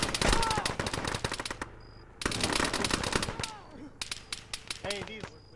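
Gunfire from the east in the Arma video game, repeated rapid bursts of automatic shots with sharp cracks and brief pauses, some distant and some nearer, with radio-style voices talking underneath.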